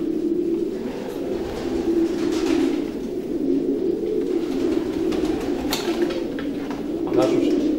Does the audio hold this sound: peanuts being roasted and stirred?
no